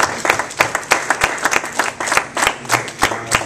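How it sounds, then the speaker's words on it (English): Church congregation clapping hands together after a prayer, a lively stream of overlapping claps with uneven rhythm, close and fairly loud, with no talking. "Somebody give God a hand clap."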